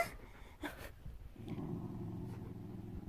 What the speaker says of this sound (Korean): 왜 갑자기 으르렁거리고 있어